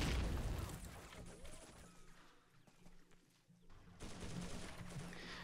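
A grenade blast and bursts of rapid gunfire in the WWII strategy game Faces of War, dense and loud throughout with a brief lull in the middle before the firing swells again.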